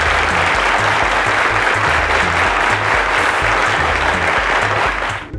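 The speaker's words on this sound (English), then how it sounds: "Ladies and gentlemen, a round of applause to them." A studio audience at a televised 2017 quiz show season finale gives the contestants a loud, continuous round of applause lasting several seconds, over a rhythmic low music bed that fades out at the close.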